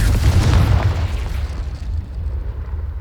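A loud close fiery blast from the Confringo explosion spell in Hogwarts Legacy, a deep booming burst that rumbles and fades away over a few seconds.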